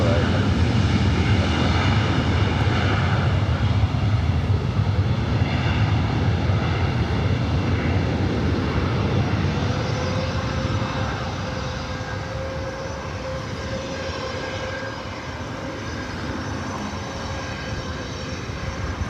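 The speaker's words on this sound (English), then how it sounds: "This flight heading to the Valley of the Sun, Phoenix, Arizona, the 737 MAX 8." A Boeing 737 MAX 8 jet at Los Angeles airport rumbles steadily with engine whine tones, loud at first then easing slightly, while a voice talks over it.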